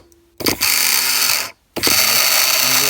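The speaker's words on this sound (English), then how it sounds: "as you can see, the window motor is working" A Nissan 240SX S14 power window motor, held by hand on the bench, whirs loudly and steadily in two long runs, with a brief gap of silence between them.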